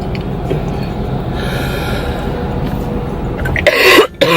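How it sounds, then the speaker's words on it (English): A single stifled cough bursts out near the end from a sick person at a McDonald's, rising over steady low background rumble and murmur. "I'm trying to hold in my cough"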